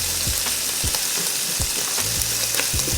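Meat browns in a hot pan for a pasta bake sauce, giving a loud, steady sizzle with a few scraping stirs and no talking.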